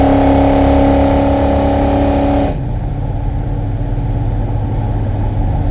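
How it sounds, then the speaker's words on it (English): A 700-horsepower 1968 Dodge Charger engine roars loudly as it accelerates on a highway, a deep revving growl that drops abruptly partway through into a lower, rumbling cruise. "what it's like to drive a 700 horsepower 1968 Dodge Charger"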